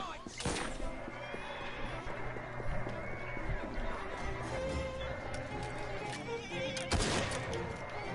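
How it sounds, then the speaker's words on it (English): A horse neighs in the Victorian London streets of Assassin's Creed Syndicate, a whinny rising over busy game noise of running hooves and crowd bustle, with a player talking over it. "You stupid horse!"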